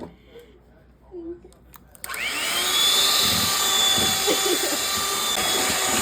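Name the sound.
electric mixer mixing cookie dough with eggs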